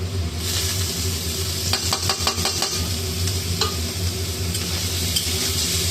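Grated ginger and turmeric sautéing in a pan for a potato curry, a steady loud sizzle running throughout, with a short burst of scraping stirring strokes in the middle.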